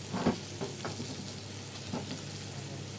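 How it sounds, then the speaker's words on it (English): Butter melting slowly in a pan for a chicken roulade gives a soft, steady sizzle with a few faint clinks and stirring noises near the start. No one speaks. "So our butter is slowly melting."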